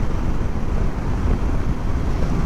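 Strong wind roars down a mountain valley in the Glencoe range while riding a Yamaha Tenere 700 Rally, buffeting the microphone with a loud, steady rumble that barely eases throughout.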